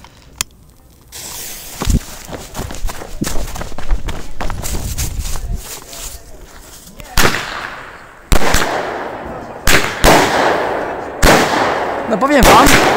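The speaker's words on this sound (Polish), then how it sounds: "wyrzutnia Fire Dragon z Hesti, 19 strzałów za 20 zł" Fire Dragon 19-shot fireworks cake from Hestia fires a series of loud, sharp bursts, scattered shots giving way to separate booming reports near the end, with crackling between them.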